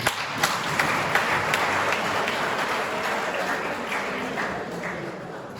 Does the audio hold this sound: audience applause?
yes